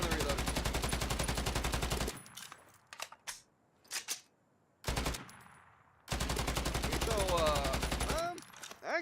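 Gunfire in the WWII shooter game Battalion 1944, with sustained loud automatic bursts broken by a gap of scattered single shots and clicks, then another long rattling burst.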